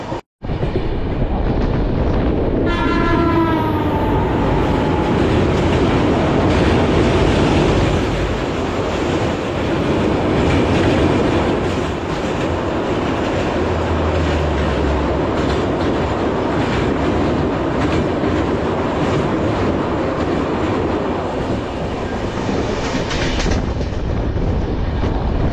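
A passenger train running at speed on the tracks is heard from inside a coach, with a steady loud rumble, rhythmic clickety-clack and a rising whistle-like tone early on, and no talk.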